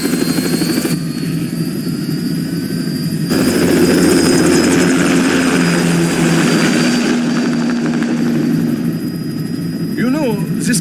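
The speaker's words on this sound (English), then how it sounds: "Commencing takeoff in semi-auto mode." An aircraft taking off in the video game Metal Gear Rising: Revengeance, with a loud continuous engine roar that swells and holds steady throughout, while a voice speaks over it.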